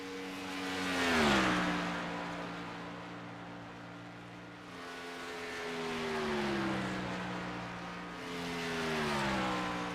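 A race car on its second qualifying lap at Atlanta, carrying speed around the oval. The engine note rises and falls in distant sweeping passes, swelling and fading several times with no talk over it.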